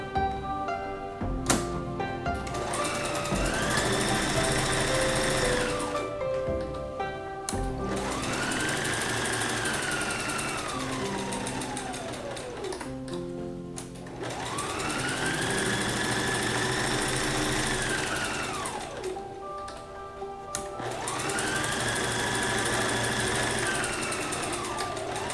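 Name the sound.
sewing machine straight-stitching olefin face mask material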